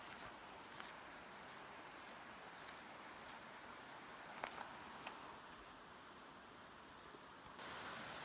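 Junction Creek on the Colorado Trail rushes beneath a trail bridge in a steady broadband wash of flowing water, with a few faint clicks on top.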